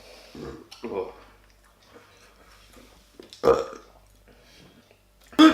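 Several loud burps come in short bursts, spaced apart, with quieter talking and breathing between them.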